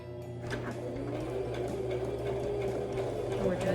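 A sewing machine runs steadily through a zigzag stitch as part of a thrift-store clothing upcycle, a continuous close mechanical whir with a faint voice underneath.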